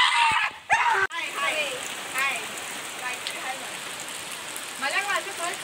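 Heavy first monsoon rain falls steadily in the Konkan countryside, a constant broadband hiss with a few sharp knocks near the start and people talking intermittently over it.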